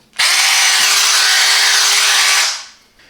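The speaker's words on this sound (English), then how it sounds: "Now I will start with this soft brick with concrete filling. First, only drilling mode." A Parkside PABH 20-Li C3 cordless hammer drill spins up sharply in drilling mode, holding a loud, steady high whine with a constant motor tone for over two seconds before winding down, close and alone.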